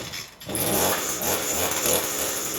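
An Echo leaf blower's small two-stroke engine catches after a pull-start, running at a steady, loud, raspy drone close by with no talk over it.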